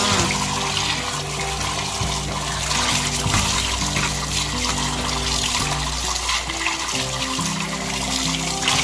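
Running water rinsing fish for a northern Thai fish dish, a steady splashing flow with a low hum underneath, continuous and close throughout.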